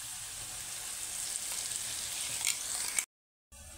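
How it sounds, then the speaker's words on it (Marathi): Ground masala paste frying in hot oil with potato pieces for an aubergine-potato curry, a steady close sizzle with faint crackles that stops abruptly near the end and then resumes. "तर व्यवस्थित असं वाटण परतवून घेऊ"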